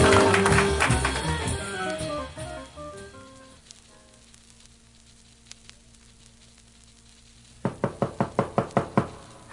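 Someone knocks on a door with a quick series of about eight sharp, evenly spaced raps, heard after a loud sizzling passage fades into quiet.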